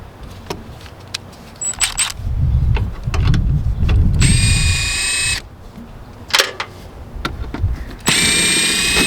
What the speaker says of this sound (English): there are 3 T25 Torx we're gonna take off so we can get this guy up